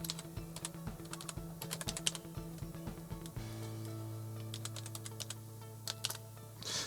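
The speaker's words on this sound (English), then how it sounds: "I'm just deliberately going to type something wrong here" Typing on a computer keyboard while filling in an account registration form, rapid irregular close key clicks over a steady low electrical hum.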